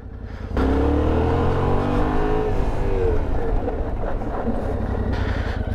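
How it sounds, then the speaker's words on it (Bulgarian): A motorcycle without ABS being braked hard in a stopping test, its loud engine rising in, then the tone shifting and dropping as it slows, close by with wind noise on the microphone. "Имаме добро спиране, правиме трето спиране"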